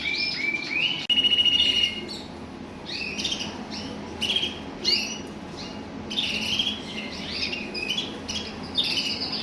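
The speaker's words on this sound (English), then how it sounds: "This is the first of my selection of red Isabels for the 2021 season." Red Isabel canaries, intensive and non-intensive breeding males, chirping and trilling in bright repeated bursts, fairly close and alone, with a louder warbling phrase near the start.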